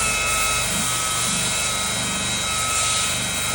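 Buffing the paint on a 2023 BMW X5 hood, a polisher gives off a loud, continuous droning whir with a rubbing, abrasive texture that holds steady throughout.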